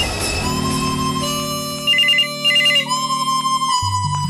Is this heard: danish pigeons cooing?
no